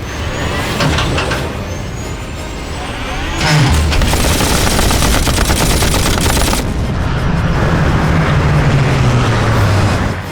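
Loud, sustained machine gun fire from a Hollywood zombie horror film, rapid bursts rattling without a break and layered over heavy rumbling and mechanical noise, with no speech during the firing.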